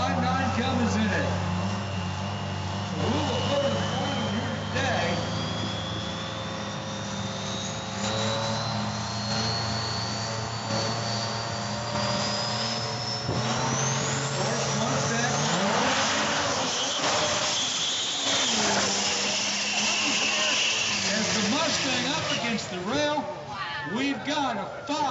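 The Power Source Diesel Mustang, powered by a 5.9 Cummins, roars down a drag strip, with a loud sustained engine note that climbs steadily in pitch, then a sharp change as it lifts off and other engines rumble nearby.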